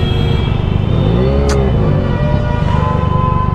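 A traffic jam on a road in Varanasi: car engines idle and rev close by in a loud continuous rumble, with a brief horn-like squeal partway through.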